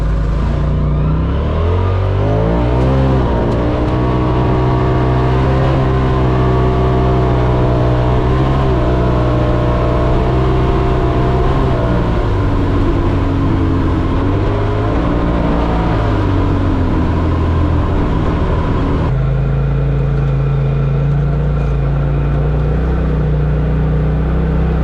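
A Polaris RZR Pro side-by-side accelerates hard along a wooded swamp trail, its engine roaring loud and close with rising and falling revs, then settling to a steadier drone near the end.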